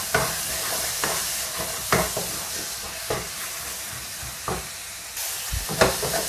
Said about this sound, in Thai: เราก็ผัดไปจนแห้งอย่างนี้นะคะ